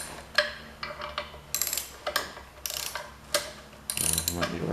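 A ratchet wrench turns a fastener while an engine is prepared for installation in a 1968 110, giving several short bursts of rapid clicking separated by brief pauses, close and clear.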